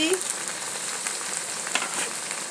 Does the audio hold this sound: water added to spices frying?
yes